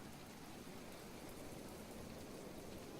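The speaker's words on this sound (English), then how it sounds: "It is incredibly loud and raining." Rain in the video game Planet Explorers falls as a faint, even wash of steady noise with no breaks, heard alone and with no talking.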